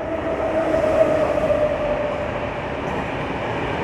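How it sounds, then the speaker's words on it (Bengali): A train passes through Whitefield railway station in Bangalore, a steady loud rumble of rail wheels and carriages holding evenly throughout with no break. "এই ট্রেন ক্রস করছে"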